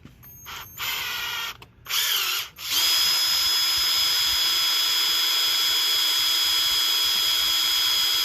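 A small electric drill boring a 1/16-inch hole for a sliding screen door track whines in short bursts, then runs steadily at high pitch for several seconds, close and loud.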